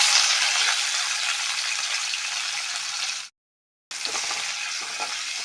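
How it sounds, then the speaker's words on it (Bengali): Chopped onion sizzles in oil left from frying dried fish, a loud, even hiss close by that cuts out briefly and then resumes with light stirring scrapes. "আমি এখন এই শুটকি ভাজা তেলটাতে কোচানো পেঁয়াজটা দিয়ে দেব"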